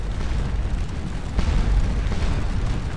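Artillery cannon fire in Scourge of War: Waterloo, a heavy rumbling bed of distant booms, with one stronger blast standing out midway.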